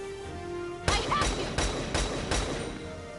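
Gunfire in Valkyria Chronicles 4 during a town siege: a rapid burst of several loud, close shots in quick succession, with game music underneath.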